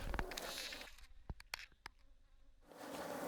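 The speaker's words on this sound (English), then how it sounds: "We use smoke to keep bees calm and to prevent them from going out of their beehive boxes" Honey bees buzz around beehive boxes, a faint, wavering swarm drone with individual bees zipping past close by, fading in the middle and swelling again at the end.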